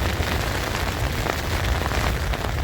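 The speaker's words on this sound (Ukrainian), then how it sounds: "Не вщухає вітер." A loud, steady roar of strong storm wind, dense and unbroken, with a rain-like hiss throughout, heard from a car.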